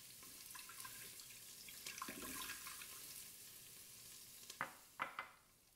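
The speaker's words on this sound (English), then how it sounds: "Add in the water." Water pours into an Instant Pot over a beef pot roast, a steady splashing pour with a few sharper drips and clinks near the end, close and fairly quiet.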